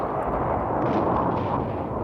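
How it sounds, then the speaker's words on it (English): Israeli artillery shelling Syrian strongpoints during the 1967 Six Day War, a dense, steady roar of booming fire that is loud and continuous throughout, with no clear separate blasts. "Israeli artillery shelled the most stubborn Syrian strongpoints with pinpoint accuracy."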